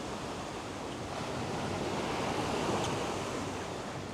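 Ocean waves wash in as a steady broadband roar with a gentle swell partway through, heard outdoors at the shore with some wind, continuous and with no voices.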